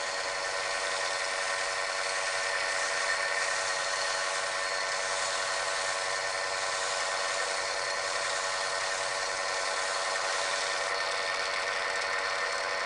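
Wood lathe turning slowly while excess gilder's paste is wiped from the spinning piece: a steady, even mechanical hum with a constant high whine and no breaks, with no voices.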